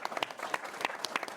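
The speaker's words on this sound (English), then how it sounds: "So please join me in giving them a round of applause" A round of applause at a cybersecurity panel event, with distinct individual claps popping out of a small crowd's clapping for sponsors, brief and fairly close.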